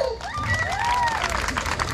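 Audience applause at a live comedy show in Ica, Peru, a steady wash of clapping and crowd noise mixed with whistles and cheering, fairly loud and continuous throughout.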